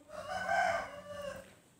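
A rooster gives a single drawn-out cock-a-doodle-doo, fairly near and clear, with hens kept among pigeons in a backyard coop.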